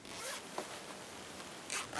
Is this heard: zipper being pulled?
yes